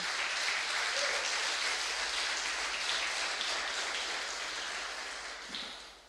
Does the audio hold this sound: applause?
yes